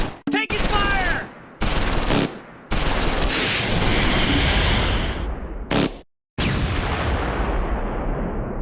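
Gunfire in the World War II strategy game Close Combat 4, set in the Battle of the Bulge at Monschau: dense, loud bursts of shots and explosions that cut off abruptly several times, with voices shouting briefly among them.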